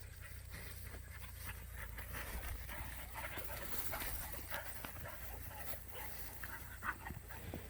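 Dogs panting and moving about nearby, with occasional soft whimpers and yips over a low rumbling background.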